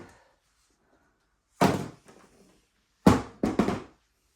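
A bottom drawer in a craft room storage unit is pulled open, giving a few hollow wooden thunks and sliding bumps, one near knock followed by a quick pair of louder ones with short gaps between.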